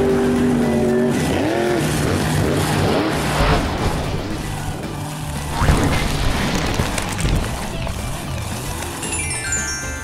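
A Halloween-costumed monster truck engine roars and revs continuously, loud and close, with rumbling bursts and shifting pitch throughout.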